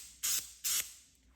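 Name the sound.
spraying glue activator from aerosol can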